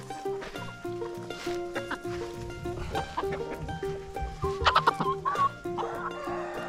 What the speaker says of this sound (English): And our chickens are very happy to have these treats